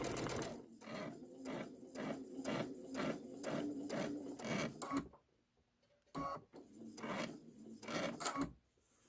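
A sewing machine with auto pivot stitching a Kimberbell bench pillow embellishment, heard as a close, steady rapid chatter of needle strokes in even pulses, pausing briefly before resuming.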